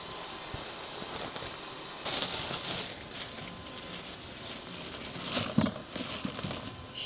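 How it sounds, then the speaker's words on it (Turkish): A plastic bag rustles and crinkles close by as it is fitted into a kitchen bin, soft continuous crumpling with a few sharper crackles and bumps. "Şu yemek poşetine poşet koyayım."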